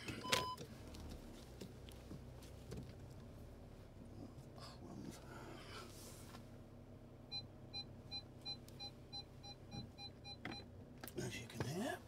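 Parking sensor on a 2019 SEAT Alhambra diesel MPV gives a series of quiet, evenly spaced electronic beeps that quicken toward the end, heard faintly inside the cabin under low engine and road noise.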